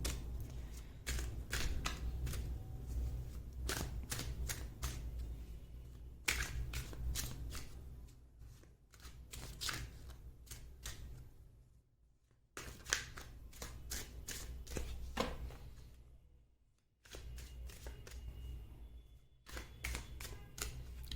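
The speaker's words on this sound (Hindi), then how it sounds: "मैं कार्ड्स आपके सामने ही शफल कर रही हूँ गाइस" Tarot cards shuffled by hand in repeated riffling bursts with short pauses between, close and crisp, going on for a long stretch without speech.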